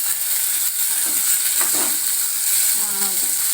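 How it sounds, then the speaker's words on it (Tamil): Onions and tomatoes sizzle steadily in a pan for a dried fish curry, with a soft constant hiss and a few faint stirring scrapes. "இந்த வெங்காயம் வந்து லைட்டாக அப்படி வதங்கினதுமேவும் லைட்டாக அந்த கலர் மாறவுமே நம்ம வந்து இது கூட தக்காளியை சேர்த்துக்கலாம்"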